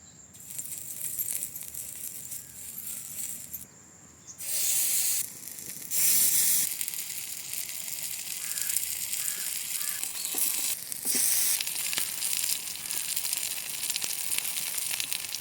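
Marinated chicken cooking on a dosa griddle greased with wood-pressed oil over low heat, giving a continuous close hiss and sizzle that swells in bursts, with faint clinks of turning.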